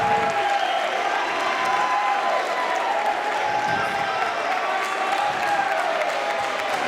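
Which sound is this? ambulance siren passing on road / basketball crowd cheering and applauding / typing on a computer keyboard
basketball crowd cheering and applauding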